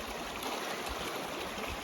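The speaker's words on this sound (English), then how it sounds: "We've got flowing water" Stream water flowing steadily through a canyon on the Pacific Crest Trail, a continuous broadband rush and trickle at moderate distance with no voices.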